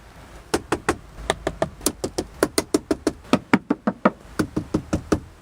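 Rapid series of about twenty sharp knocks on the hard plastic interior trim of a 2019 Chrysler 300S, close and loud, in an uneven rhythm with no talking.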